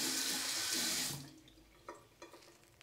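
A tap runs water into a sink at close range during a traditional shave, a steady rush that cuts off after about a second, followed by a few faint knocks and clinks.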